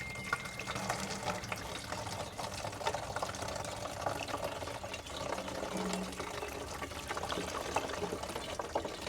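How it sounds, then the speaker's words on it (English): Spoiled milk separated into curds and whey is poured through a filter, producing a steady, continuous liquid splashing and trickling that stays close and even throughout. "our spoiled milk, which has our curds and whey separated, and we're going to filter it."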